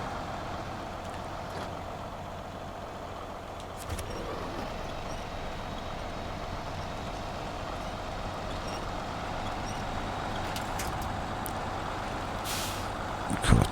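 A heavy off-road truck grinds along in Snowrunner, its engine droning steadily with hissing air-brake bursts and rumbling tyres, a sharp clunk near the end.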